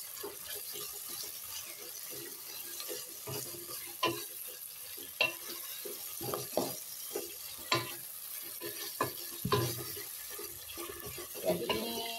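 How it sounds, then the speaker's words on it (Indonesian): Beef with garlic and spices being stirred in a pan, with repeated scraping clinks of the utensil over a steady sizzle, close and fairly loud, with no talk. "aduk-aduk pemirsa sampai benar matang dan bumbunya tercampur rata."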